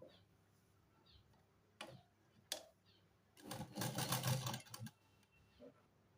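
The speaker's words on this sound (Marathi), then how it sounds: "आता आपल्याला इथे दाब शिलाई द्यायची आहे" A sewing machine top-stitching a kurti whirs in one short, moderately loud burst of rapid stitching, preceded by a few isolated mechanical clicks in an otherwise quiet room.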